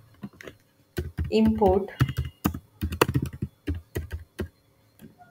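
Java code is typed on a computer keyboard in a dense run of crisp, close keystroke clicks, with a person speaking briefly between the taps.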